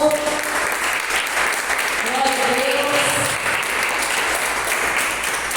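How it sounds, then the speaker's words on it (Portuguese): A church congregation claps throughout in a thick, continuous wash of applause, with a voice speaking briefly over the clapping. "Aplauda o Senhor."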